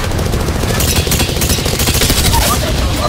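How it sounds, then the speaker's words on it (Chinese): A big gun fires a rapid, continuous burst of loud shots in the Apex Legends video game, dense and sustained for the whole stretch, with a player's voice mixed in. "我开大炮。"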